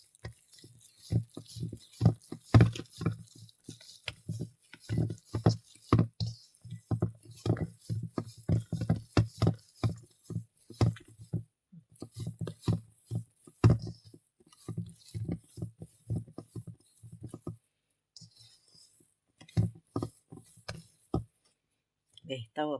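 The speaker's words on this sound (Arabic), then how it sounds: "هاك نبدا نعمش حتى نبدا الزيت هذاك الكل يدخل في العجين" Oil being worked into bread dough by hand for Tunisian tajine bread in a home kitchen, soft wet squelching slaps and presses in an irregular rhythm, close and quiet, with someone talking throughout.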